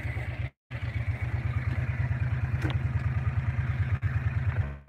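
A John Deere Gator utility vehicle driving on a family farm, its engine giving a steady, close chugging drone with a rapid, regular low pulse and no talking.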